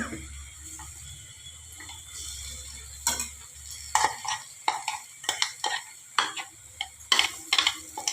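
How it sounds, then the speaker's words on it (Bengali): Lentil fritter batter of mung and chana dal is stirred in a wok, giving soft scraping strokes and sharp intermittent clinks of a utensil against the pan over a faint sizzle, close and with no talking. "একটু হালকা করে কড়াতে নেড়ে নিতে হবে।"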